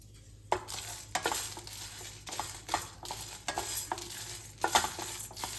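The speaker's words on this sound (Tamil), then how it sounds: "லைட்டாக வறுத்து விட்டுறலாம் கருகிடாமல்" Red chilies, coriander seeds and curry leaves are dry-roasted lightly in a pan. A spoon stirs them in a series of close, scraping strokes that rise and fall, fairly quiet, over a low background hum.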